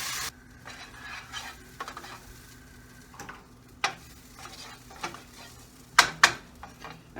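Onions fry in a pan with a quiet background sizzle, broken by intermittent stirring scrapes and a few sharp utensil clicks against the pan, close by and with no talking.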